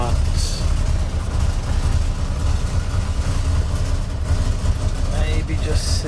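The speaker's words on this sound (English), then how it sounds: "when I rev the engine" A 1968 Rover P5B Coupe's engine runs with a steady low rumble, idling and rising slightly as it is revved, close and continuous with faint hiss above.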